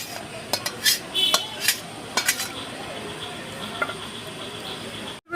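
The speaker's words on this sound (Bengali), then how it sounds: "এবার কড়াইটা আমি পরিষ্কার করে নিই" A kadai wok being cleaned in a kitchen: several sharp metallic clinks and scrapes early on, then a softer steady wiping and rustling, close and fairly loud with no talking.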